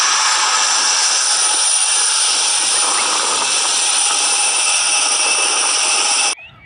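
A loud, steady high-pitched whine like a jet engine, from an electronic toy, held for several seconds before cutting off abruptly.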